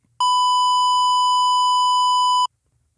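One sustained hollow, reedy synthesizer square-wave tone, steady and loud for about two and a quarter seconds, starting and stopping abruptly in silence.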